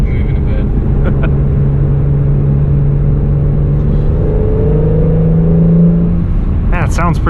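A 2017 Acura NSX drives through the city in the rain with a loud, steady cabin rumble. A droning engine tone rises as the car picks up speed, under continuous road and rain noise with voices talking.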